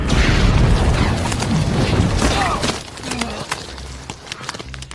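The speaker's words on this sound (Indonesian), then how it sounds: "saat itulah bom meledak dan membuat Rasputin mati untuk selamanya" A bomb blast in a film scene lands as a loud, rumbling boom that rolls on for a couple of seconds, then breaks into scattered clattering and thuds as it dies away.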